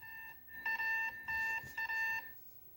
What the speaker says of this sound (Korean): 유해가스가 감지되자 즉시 스마트폰에서 경보음이 울립니다.